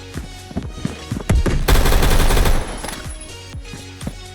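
A new gun is fired in a shooter video game in loud, sharp bursts: scattered single shots first, then a dense, sustained burst of rapid fire lasting about a second, then more spaced reports.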